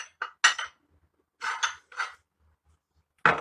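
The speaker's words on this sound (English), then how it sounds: "we're just going to take some of this dip and pop it in a bowl like that" A spoon scoops dip into a bowl, giving a few short clinks and scrapes in quick clusters separated by quiet pauses, close and fairly crisp with no talking.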